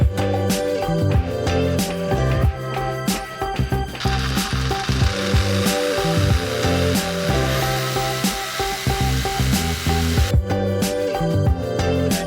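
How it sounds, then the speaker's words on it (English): A loud power tool runs continuously while trimming the overhanging ends of wooden planks at the transom of a wooden boat being rebuilt, its motor whine mixed with a rattling, grinding cut that rises and falls throughout. "It's time for me now to trim off the ends of the planks where they overhang the transom."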